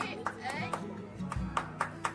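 Sharp hand claps at home during a family welcome for a new bride, arriving in an uneven series of single claps over background voices and talk.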